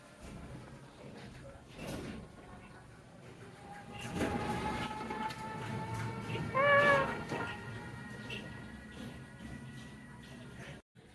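A cat lying down gives a single drawn-out meow near the middle, against quiet room noise, a few knocks and a sliding door.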